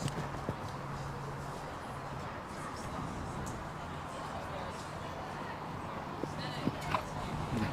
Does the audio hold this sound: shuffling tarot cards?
no